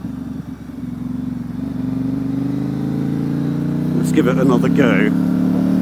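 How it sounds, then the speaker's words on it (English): A 2019 Ducati Diavel 1260 S motorcycle with a Termignoni exhaust revs loud and close, its engine tone rising steadily as the quick shifter clicks through gear changes. A rider speaks briefly over it near the end. "I was just testing, by the way, the quick shifter, which I forgot that I had"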